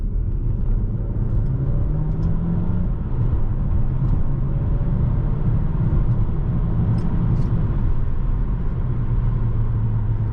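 An Alfa Romeo Tonale hybrid with a four-cylinder engine and electric motor accelerating in second gear: a steady, low cabin rumble and hum with muted road noise, fairly constant, no talking.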